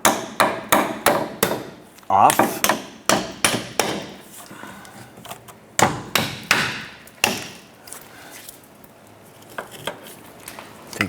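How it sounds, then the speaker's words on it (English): A hammer taps a sway bar bracket loose on a 2006-2013 Chevrolet Impala, giving bursts of sharp, close metallic strikes in quick runs with short pauses between them, fading into lighter taps toward the end, with a brief spoken word. "We're going to use our hammer and tap our bracket"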